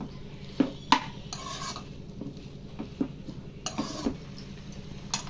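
Green chillies are stirred in a pan while making ivy gourd chutney, with intermittent metallic clanks and scrapes of a spoon over a quiet background sizzle.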